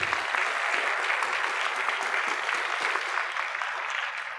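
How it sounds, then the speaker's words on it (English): Sustained audience applause fills a presidential inauguration ceremony at New River Community College, a dense, steady wash of many hands clapping at even loudness throughout, with no speech over it. "Can we give Pat a round of applause?"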